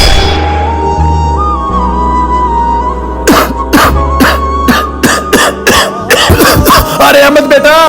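A man coughs repeatedly in a series of loud, harsh bursts in the second half, following a stretch of background sound and talk.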